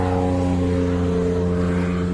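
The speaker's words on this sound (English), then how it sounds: "it was a Group C car in the Momo colours, red with the yellow Momo logo and E&O" A Group C race car in Momo colours, red with the yellow Momo logo, roars past at a Le Mans race, its loud, steady engine drone filling the short stretch.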